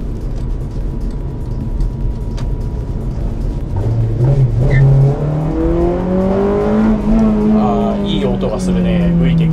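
Honda Civic Type R with Mugen parts and a VTEC engine revs up, its note climbing and holding loud and close, with people talking over it.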